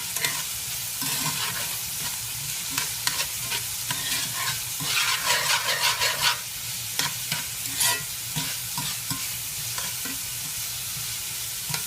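Garlic and onions sautéing in a pan, a steady close sizzle with frequent scraping, clattering stirs that bunch into a busier burst midway before easing back, and no one speaking.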